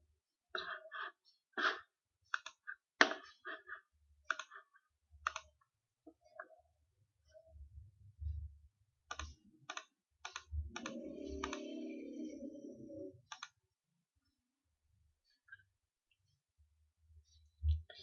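Scattered computer keyboard keystrokes and mouse clicks on pharmacy software, sparse and close, in short irregular bursts with pauses between, a few low thumps and a short rougher stretch mid-clip.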